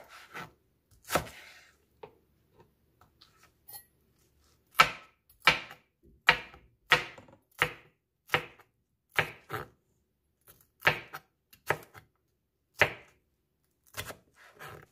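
A knife chops watermelon rind into small cubes on a board, with crisp, close cuts falling in a loose rhythm, sparse at first and then coming in steadier clusters, with no talking.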